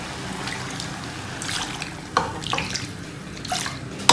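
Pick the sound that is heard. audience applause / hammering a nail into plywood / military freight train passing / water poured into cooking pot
water poured into cooking pot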